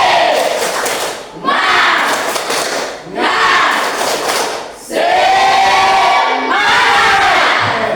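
A class of students stands and performs a rhythmic spirit clap in bursts, loud group claps and shouts grouped into several short chanted phrases with brief pauses between.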